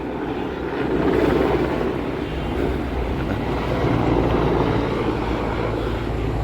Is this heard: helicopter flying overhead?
yes